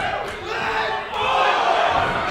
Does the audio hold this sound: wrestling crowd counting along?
yes